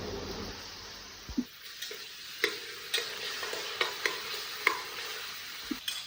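Crushed garlic, ginger and shallots fry in a pan with a soft, steady sizzle, broken by a series of sharp spoon taps and scrapes at irregular intervals as the mixture is stirred.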